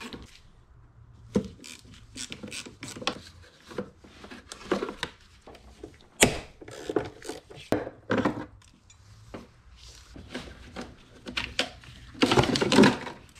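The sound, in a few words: ratchet removing bolts from Range Rover Evoque battery tray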